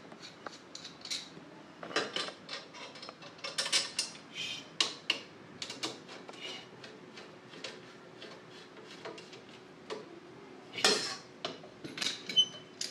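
Metal aari embroidery stand being assembled, legs pushed into holes and screws fitted, giving scattered sharp metallic clinks and taps, close and intermittent with quiet gaps.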